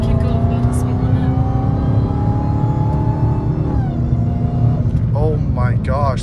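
A Dodge Hellcat Redeye accelerating hard on a canyon road: a loud, continuous engine roar whose pitch climbs steadily, dips briefly near the middle as if shifting, then keeps pulling, close and dominant throughout.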